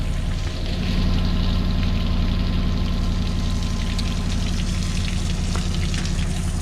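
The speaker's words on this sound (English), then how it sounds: "So we're just getting the truck warmed up" A truck engine idles while warming up on a rainy morning, a loud, steady low rumble with a constant churning texture, close by and without speech.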